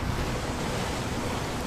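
A monsoon waterfall in Melghat forest roars in a steady, dense, full-band rush of falling water, loud and unbroken throughout.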